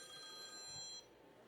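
A telephone ringing faintly in a room, a steady electronic ring tone holding for about a second and then cutting off, with no voices over it.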